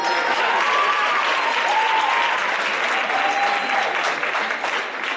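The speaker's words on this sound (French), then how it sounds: "Une bonne main d'applaudissement pour les deux." Sustained applause from a large audience at a singing competition elimination round, steady and loud throughout, with a few faint whistles rising above the clapping.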